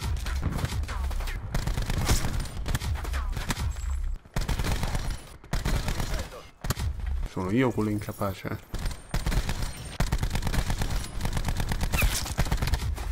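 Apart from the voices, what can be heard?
gunfire in a video game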